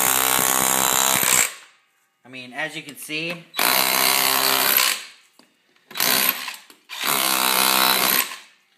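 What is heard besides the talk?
DeWALT DCH213L2 SDS rotary hammer chipping concrete block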